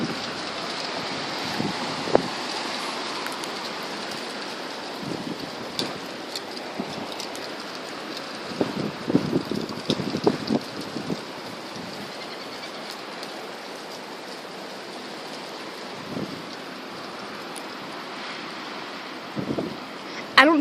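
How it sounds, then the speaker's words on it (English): Strong, gusty blizzard wind rushes steadily outdoors, with irregular louder gusts and buffeting thumps breaking through the hissing roar. "I know you guys probably don't know how windy it is, but it's really windy."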